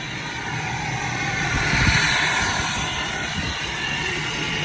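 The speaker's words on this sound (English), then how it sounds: "You probably can't hear a thing I'm saying because of the exhaust." A 2019 Ford F-250 truck gives off a loud, continuous exhaust roar close by, swelling briefly near the middle before settling back to a steady rumble.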